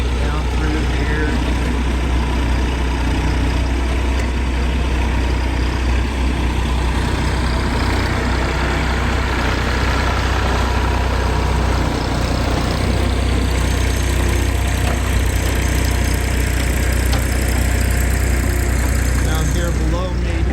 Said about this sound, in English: The big backhoe doing some grading.